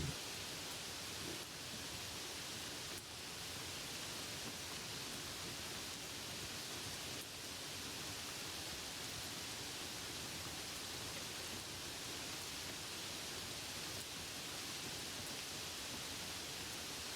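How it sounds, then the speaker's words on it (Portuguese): Steady rain falls continuously, a soft, even hiss of drops with no breaks or shifts, moderately quiet and consistent throughout with no voices. "Continue ouvindo a chuva, cada gota caindo suavemente, criando um ritmo perfeito para dormir."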